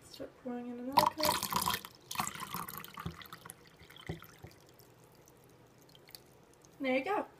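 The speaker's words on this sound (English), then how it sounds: "And start pouring in another cup." Water is poured from a cup into a Disney refillable mug, heard as brief splashing and trickling bursts between pauses, fairly close, with a voice speaking at the start and end.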